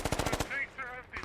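Machine gun fire in the military shooter game Squad: a short, rapid burst of about six loud shots, followed by quieter tonal in-game sounds and a brief voice.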